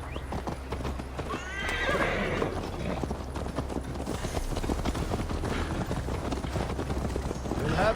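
A horse galloping in Assassin's Creed Valhalla, continuous rhythmic hoofbeats with snorts and a whinny over a dense, loud game soundscape.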